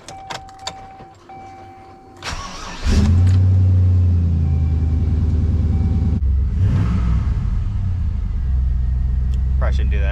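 Faint clicks and a rattle, then a pickup truck engine fitted with an Airaid intake tube cranks and roars to life, settling into a loud, deep rumbling idle with a brief rev midway.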